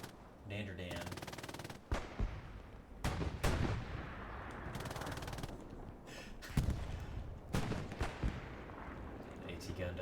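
Turret gunfire in a competitive video game match fires in repeated loud bursts and sustained volleys throughout, with voices talking in between.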